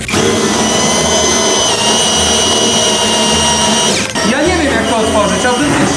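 A loud, steady power drill whine runs for about four seconds, then cuts off and restarts briefly, with voices talking underneath.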